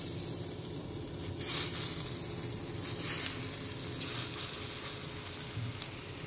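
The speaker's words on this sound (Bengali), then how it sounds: "আমি তেলেতে বড়িগুলো ভাজার জন্য দিয়ে দিয়েছি" Red lentil (masoor dal) fritters sizzle steadily in hot oil, a dense, continuous crackling hiss close up with small bursts of spatter and no voices.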